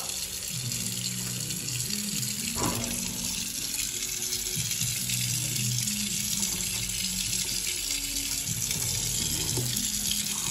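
Water runs steadily from a kitchen tap in a house under renovation, a continuous hiss and splash of flow into a sink, with faint clunks in the background.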